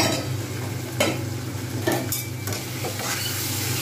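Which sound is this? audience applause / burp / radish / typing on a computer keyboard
radish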